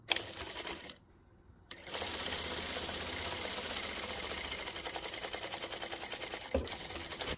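A sewing machine runs at a rapid, even rhythm while stitching the fabric pieces of an oven mitt, pausing briefly near the start before stitching steadily again, close and alone.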